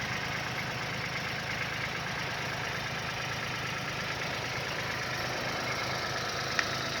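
A Kubota GR16 small tractor engine runs steadily throughout, a continuous rumbling drone with a brief faint click near the end.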